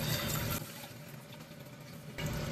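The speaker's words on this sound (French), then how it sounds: "On va mettre de l'eau." Water poured into a freshly repotted houseplant's pot, a steady close trickle and splash that softens midway, then swells again near the end, with no voices.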